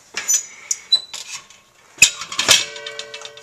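The metal lid of an Aladdin blue flame kerosene heater being handled and closed, sharp metallic clanks and rattles, with a louder clank near the end followed by a brief ringing.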